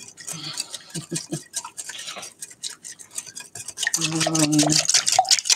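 Salad dressing is whisked in a bowl, with quick, close clinking and scraping strokes coming in bursts, while people chat nearby and a voice rises over the last part.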